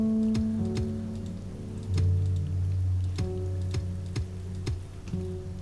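Rain falls in the video game Starbound, a steady patter with ticking drops over a continuous background hum and tonal game sounds, with no talking.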